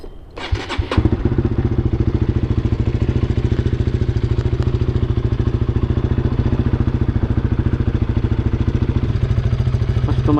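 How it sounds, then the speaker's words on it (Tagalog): A big bike motorcycle engine cranks and fires, then settles into a loud, steady idle with an even, rapid rhythm close by, with no talk over it. "Start up the engine."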